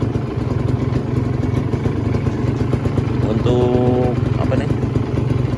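A green 2015 Kawasaki Ninja R two-stroke motorcycle idles steadily at about 1000 RPM, a close, even, buzzing engine drone that runs throughout while a person talks over it.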